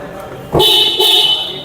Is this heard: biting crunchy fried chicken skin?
no